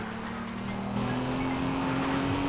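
Race car engine in Need for Speed Rivals, a loud sustained roar with a rising whine as it accelerates, tire noise blended in and no talk over it.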